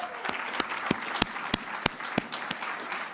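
Audience applause for scholarship donors at an AFUWI fundraising dinner, a steady wash of clapping with a few sharp, louder claps punctuating it at roughly regular intervals.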